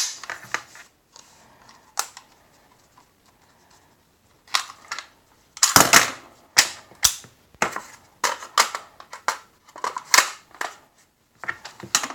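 Magazine change on a Diamondback DB15 5.56 rifle: a scattering of sharp metallic clicks and clacks, then after about five seconds a tight run of louder snaps and latching knocks as the magazine is dropped and a fresh one seated.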